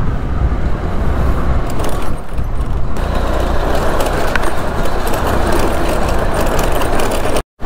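A Suzuki Burgman scooter rides along a road with a continuous, loud engine hum and heavy wind rush. The sound stays fairly constant and cuts off abruptly near the end, with no talk.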